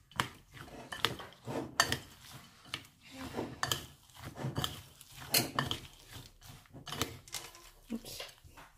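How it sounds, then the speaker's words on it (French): Batter for easy barquette cakes is stirred in a bowl, giving repeated soft scraping and clinking strokes in an uneven rhythm, with a quiet voice now and then. "Donc je vais mélanger."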